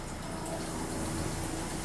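Liquid poured into a shake in a home kitchen, heard as a steady, close gushing pour that fills the whole short moment with no talking.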